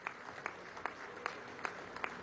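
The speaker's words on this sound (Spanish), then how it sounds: "Un aplauso, por favor" Applause at an official ceremony for the Orinoco Oil Belt hydrocarbons project, a faint steady clapping from an audience, fairly distant, lasting a couple of seconds.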